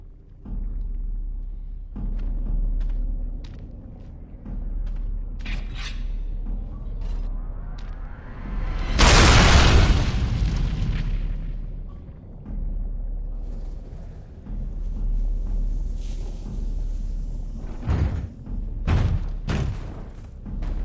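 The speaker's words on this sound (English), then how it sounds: "I will destroy the anvil as agreed." An anvil being destroyed in the video game Dragon Age: Origins, with a rising rumble that swells into a loud explosive roar near the middle, surrounded by lower creaks, thuds and mechanical game sounds.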